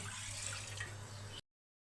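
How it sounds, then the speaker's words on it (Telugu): Half a litre of water runs into a pressure cooker on a gas stove in a steady stream for about a second and a half against a low hum, then stops abruptly into silence. "1/2 లీటర్ నీళ్లు పోసుకొని"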